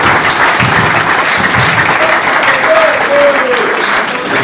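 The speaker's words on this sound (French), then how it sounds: "Applaudissez aux 4" Audience applause at a public gathering in the Democratic Republic of Congo on constitutional revision: loud, dense, steady clapping from a crowd, sustained without pause for several seconds.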